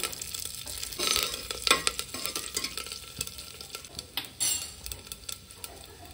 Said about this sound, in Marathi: जिरं मोहरी टाकले, कढीपत्ता आणि ठेचलेली आलं आणि लसूण आहे थोडीशी.